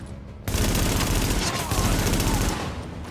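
Sustained rapid gunfire bursts loudly from a weapon in the video game The Division, beginning abruptly after a quiet moment and continuing for over two seconds before easing off.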